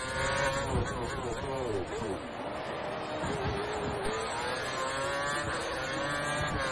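A Formula 1 car engine in the video game F1 2013 roars continuously at high revs, its pitch rising and dipping as it shifts, loud and close with no pauses.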